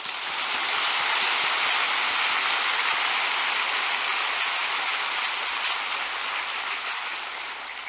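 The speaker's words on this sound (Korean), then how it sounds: "우리 하나님께 한 박수를 치십시오" Sustained applause from a large church congregation during a sermon, a thick, steady wash of clapping that holds at full strength and tapers slightly toward the end.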